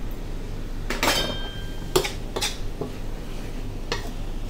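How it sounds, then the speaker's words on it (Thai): Pickled cabbage and chili being stir-fried in a pan, with several sharp metallic clinks and scrapes of a spatula against the pan over a steady low background hum. "เราก็จะผัดให้เข้ากันแล้วครับผม"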